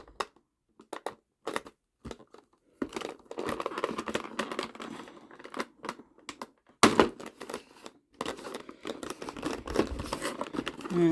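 Plastic packaging crinkles and crackles with scattered snips and tearing as a Godzilla vs Kong Hong Kong battle Kong figure is pulled free; sharp bursts come first, then longer stretches of close rustling and handling.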